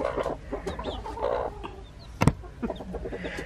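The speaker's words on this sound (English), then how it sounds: "Okay, right on top of us. Little chicks." Small chicks cheep and cluck close by in a busy, irregular chorus, with one sharp louder call partway through.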